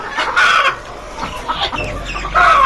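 Chickens at a village poultry farm in Nowshera Gharbi, where desi and exotic breeds are kept, cluck and squawk loudly and close by in a busy, overlapping burst.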